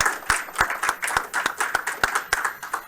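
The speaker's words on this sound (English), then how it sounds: "Please give yourselves another round of applause." A small group claps together at a game studio team meeting, with crisp, individual hand claps in a brisk irregular rhythm that stays close and fairly loud throughout, with no talking over it.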